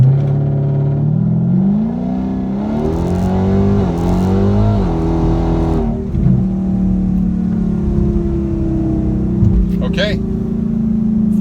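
A Dodge Hellcat launching in second gear on street tires, its engine climbing loudly in pitch, dipping briefly at a shift, then pulling on in a steady loud roar, close up, with a faint voice underneath.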